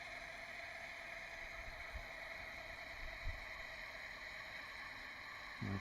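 A small pull-cord wind-up motor on a toy canoe runs in bath water, giving a steady close whirring buzz with faint splashes throughout.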